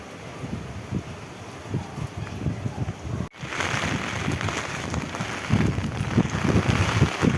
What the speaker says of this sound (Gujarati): એક તો પવન જ એટલો જોશથી ભાઈ ચાલી રહ્યો છે